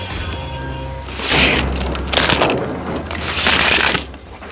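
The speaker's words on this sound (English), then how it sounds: "Donald had ran into two milk tankers that were very old." A train crashes into two old milk tankers in a children's animated story, a loud rumbling crunch and clatter of impacts building in waves over a few seconds.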